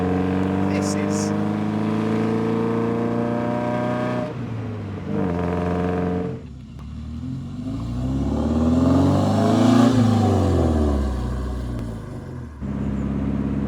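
A Morgan Plus 4 British classic car drives along, its engine droning close by with rising and falling revs through gear changes, a brief dip mid-run, then swelling louder before easing off.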